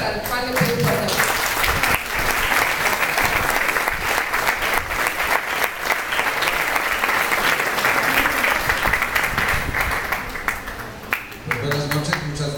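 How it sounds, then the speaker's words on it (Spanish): An audience gives a speaker a sustained burst of applause at a lecture, dense clapping that fills the room, with faint voices at the start and end as the clapping tapers off. "Pues queda con ustedes el doctor Juan Yadeu, para el cual le pido un fuerte aplauso."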